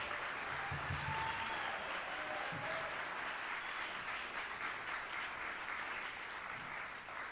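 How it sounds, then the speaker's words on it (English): A concert audience applauds a jazz band with sustained, even clapping that fills the hall for several seconds, a few faint voices mixed in. "they deserve your applause"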